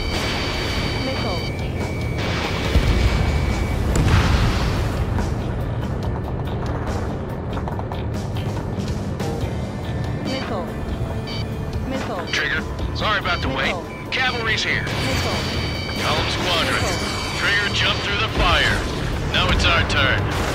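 Missiles explode one after another during an aerial battle in the combat flight game Ace Combat 7, with deep booms and blasts rolling under continuous radio voice chatter.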